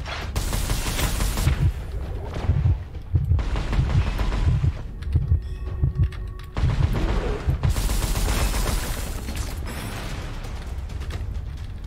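Crossbow shots in the video game Gunfire Reborn come as a loud, continuous barrage of sharp firing bursts and mechanical clatter, with a short quieter break in the middle where ringing tones sound.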